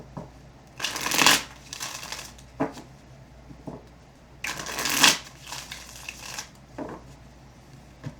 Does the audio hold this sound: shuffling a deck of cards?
yes